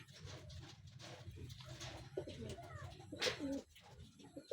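Racing pigeons coo softly in a loft, low rolling calls repeating under someone speaking nearby, with scattered clatters and a brief sharp chirp in the background.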